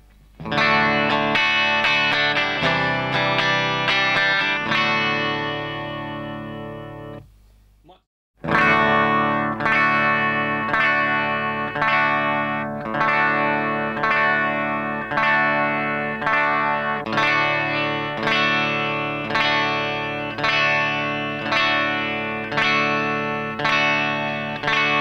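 An electric guitar played through a buffer pedal, first without and then with the buffer. Dense ringing chords run for about seven seconds, break briefly, then return as steady picked notes that sound brighter and slightly effected.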